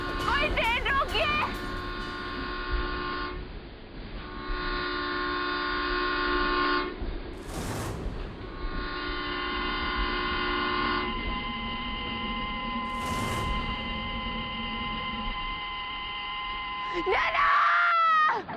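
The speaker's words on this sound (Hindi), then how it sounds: "रोकिए, ट्रेन रोकिए, प्लीज कोई ट्रेन रोकिए।" A train horn blares in long sustained blasts during a tense scene, with people screaming and shouting over it and a final burst of commotion near the end.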